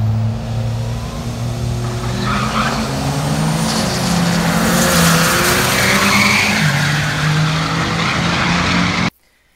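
A race car at speed during a racing season, engine roaring and shifting pitch as tires squeal and skid, loud and sustained for about nine seconds before cutting off abruptly into silence.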